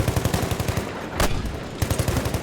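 In Battlefield 1, rapid automatic gunfire rattles in fast, evenly spaced bursts. One loud single shot lands in the middle, and the steady firing picks back up after a short pause.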